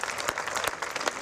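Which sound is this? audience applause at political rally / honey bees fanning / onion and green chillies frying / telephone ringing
audience applause at political rally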